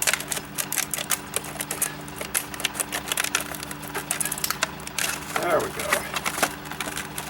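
Tin snips chopping through plastic packaging, a rapid run of crisp clicking snips and crackles, with a brief spoken phrase partway through.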